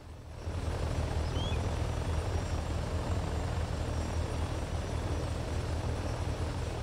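A helicopter in a flight video game, its rotor and engine drone starting up and holding steady and fairly loud, with no talking.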